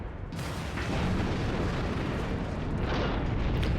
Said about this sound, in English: the Ober took quite a big hit from the torpedoes there